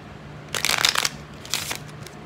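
Love oracle cards being shuffled in two brisk bursts, each a quick papery riffle of about half a second, separated by a short pause, close and moderately loud with no voices.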